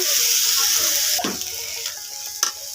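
Bathua greens hit a hot pan of browned oil and sizzle steadily and loudly, the frying hiss broken by a few stirring scrapes close by.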